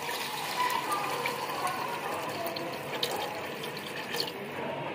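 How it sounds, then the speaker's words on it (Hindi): Water pours steadily into a pot of cooking chickpeas, about two glasses' worth, a close continuous splashing gush lasting several seconds. "पानी डालेंगे तकरीबन 2 गिलास"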